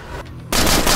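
SCAR-H rifle fire in the zombie survival video game State of Decay, a sudden loud burst of gunfire that starts halfway through after a quieter moment and carries on dense to the end, with no talk.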